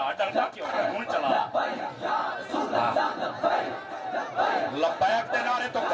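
A large crowd at a religious gathering chants Labbaik slogans in loud repeated surging bursts, voices blending into a rousing collective roar.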